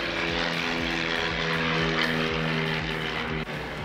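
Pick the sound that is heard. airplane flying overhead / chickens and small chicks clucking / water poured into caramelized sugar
airplane flying overhead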